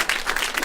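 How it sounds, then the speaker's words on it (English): Audience applause in a hearing room for two women organizers, dense overlapping claps at steady loudness through the short burst, with no voices on top. "I think we need to give both these two amazing ladies a round of applause,"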